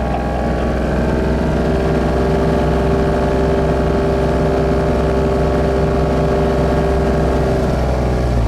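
A white 1953 Chevrolet Corvette engine pulls hard up a mountain road, a steady loud droning roar with a deep low rumble that holds constant and close throughout, with no talk.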